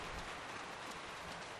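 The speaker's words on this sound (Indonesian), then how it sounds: "Hati-hati, hujan lagi hujan." Rain falls steadily in a dense, even hiss of countless drops on surfaces, faint and continuous with no talk.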